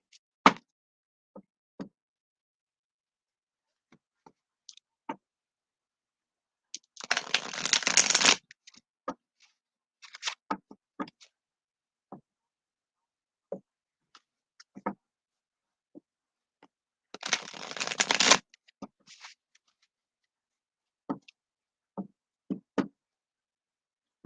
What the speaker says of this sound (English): let's go ahead and shuffle these up